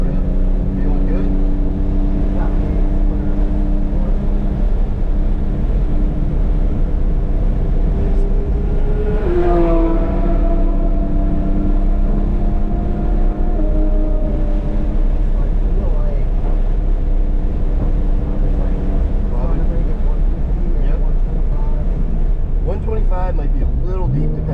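2025 Porsche 911 Carrera T with manual gearbox accelerating hard on a race track, a loud in-cabin engine drone that rises in pitch, heavy with road and wind noise, and occasional talk over it.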